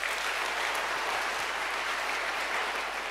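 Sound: audience applause, big loud clapping

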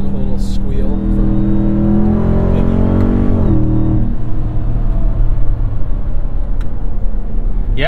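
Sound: Ram TRX with AWE 0FG exhaust accelerating

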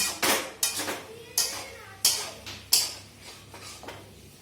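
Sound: cooking with bori (sun-dried lentil dumplings) in a pan

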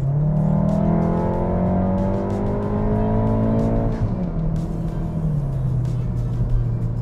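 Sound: car accelerating at over half throttle

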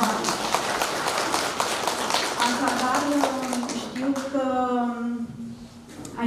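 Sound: audience applause for painter Vali Mănăilă

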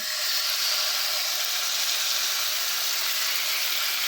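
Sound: beef frying in oil in a hot pan

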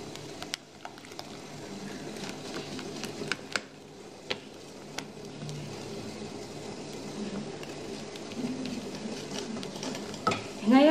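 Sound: quickly whisking egg yolks into mixture over bain-marie

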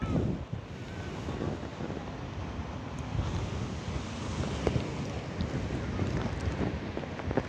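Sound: strong morning wind by the sea

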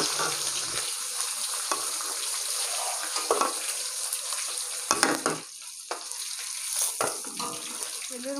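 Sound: rohu fish frying in oil

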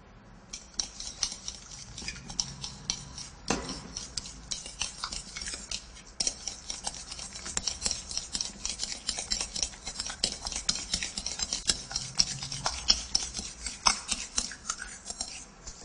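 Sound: mixing eggplant flesh and garlic with a fork

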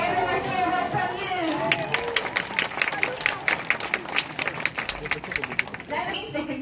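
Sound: audience cheering and clapping for sea lions

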